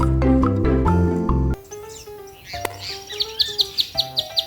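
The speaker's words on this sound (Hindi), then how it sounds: "चुन चुन करती आई चिड़िया" A small bird chirps in a children's nursery rhyme song: a run of bright, evenly spaced chirps rises near the end, after a stretch of music.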